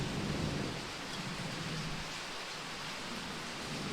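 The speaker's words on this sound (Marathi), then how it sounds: "खूप जोराचा पाऊस येतो आहे. त्यामुळे आपल्या व्हिडिओमध्ये थोडासा पावसाचा आवाज येईल." Heavy rain pours down outside, a dense, even hiss of steady noise that holds without pause, moderately loud and unbroken.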